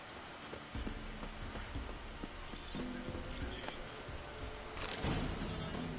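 Horse hooves clip-clopping in The Witcher as the horse Roach runs, a steady rhythmic trot of hoofbeats with ambient game sound, moderately close and alone.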